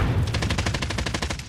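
Rapid automatic gunfire in the Warzone battle royale video game, a steady stream of about a dozen evenly spaced shots, loud and close, with no talking.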